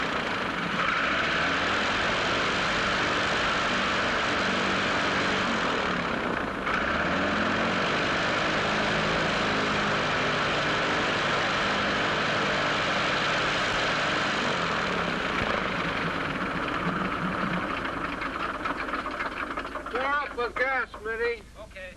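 A 1930s light airplane engine drones steadily at a moderate distance, a continuous hum with a slight swell midway, with people talking over it near the end.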